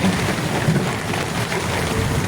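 Heavy rain during an auto-rickshaw ride, a loud, dense, continuous wash of rain and road noise with no clear pauses.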